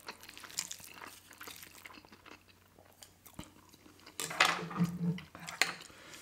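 Fork clinking against dishes while eating pad thai, close scattered clatters and scrapes with some chewing, louder in bursts near the end.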